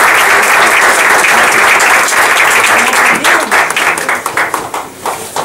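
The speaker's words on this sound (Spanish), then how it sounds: "Un aplauso." A lecture audience gives a sustained, dense round of applause for a mushroom-talk speaker, loud and close, thinning into scattered claps near the end.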